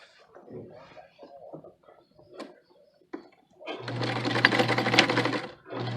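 A sewing machine stitches a Simplicity 8519 pattern at a long stitch length, running steadily and loudly for about two seconds after a stretch of quiet rustling and handling noises.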